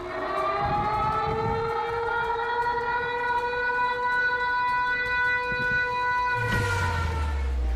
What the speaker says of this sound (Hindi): तेंदुआ जैसे ही इस कैमरे की रेंज में आता है, सायरन बजने लगता है।